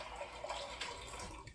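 Water pours into a pot for a potato and kale soup, a quiet, steady splashing hiss that runs for a moment without pause and with no one talking.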